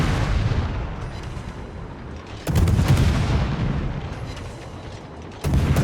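The rear naval guns of a Gearing destroyer fire in World of Warships: a steady rumbling battle din broken by two loud, booming salvos a few seconds apart.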